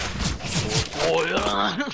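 Rapid gunfire bursts in the competitive shooter CS:GO pop beneath a player's excited voice, with the shots crowding the first second before the talk takes over.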